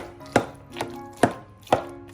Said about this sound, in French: maintenant, je vais hacher tout cela, d'abord avec un couteau